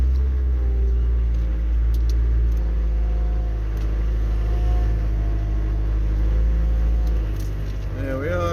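A farm vehicle drives up a track alongside a wood, its engine a loud, steady low rumble that fills the whole stretch while someone talks over it.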